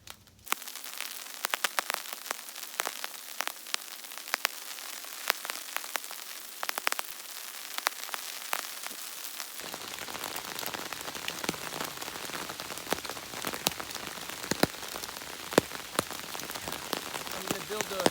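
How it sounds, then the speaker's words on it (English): Heavy rain falls outdoors during a coffee-making camp, dense crackling patter on surfaces that thickens into a fuller roar partway through, close and steady with no one speaking. "But the rain's really picking up,"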